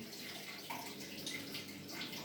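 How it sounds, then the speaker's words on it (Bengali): Onions being washed under a running kitchen tap, a soft continuous splash and trickle of water, faint and close, with no voices. "অত পেঁয়াজ ধুতে হয় না"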